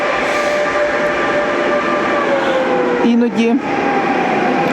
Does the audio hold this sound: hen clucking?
no